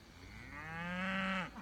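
A single cow lets out a long, rising moo from a herd grazing up on a north hill, close and clear, swelling over about a second before breaking off, with no talk.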